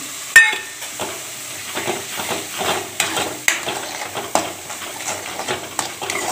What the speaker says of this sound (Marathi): त्याच्यात आपण हे मसाले काढून ठेवलेले ते मिक्स करूया।